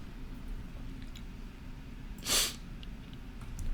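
A single short, sharp sneeze bursts out close by in the middle of an otherwise quiet room, with only a faint background hiss around it.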